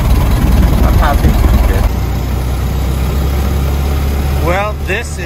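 A Ford Model T engine idles steadily after starting, a loud low rumble running through the whole stretch, with brief voices heard over it.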